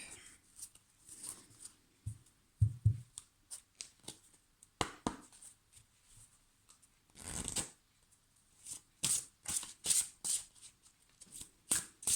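Two decks of oracle cards are shuffled together by hand, giving repeated crisp riffling bursts and soft slides of card stock, close and fairly quiet, with short pauses between.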